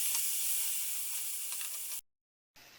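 Whisked curd being stirred into arbi masala over low gas gives a steady bright sizzle and hiss for about two seconds, then cuts abruptly to silence before a faint return.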